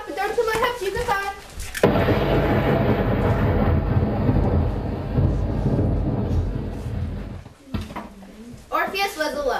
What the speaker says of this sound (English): Hey, what's that rumbling sound? It's getting louder and louder.